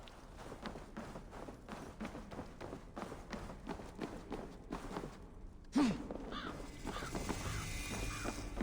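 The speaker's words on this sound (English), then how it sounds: "Why can I hear a crow down here?" A crow caws in the video game Assassin's Creed Valhalla, heard down in the sewers, several harsh caws against steady footsteps and ambient game sound, then a breathy sigh.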